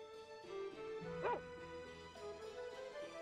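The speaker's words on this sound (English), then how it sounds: "Wait, isn't this one a dog?" A dog in the Tales of Phantasia video game gives a single quick synthesized yip, heard over a quiet looping game music background.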